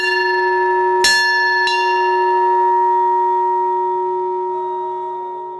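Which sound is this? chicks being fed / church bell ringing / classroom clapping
church bell ringing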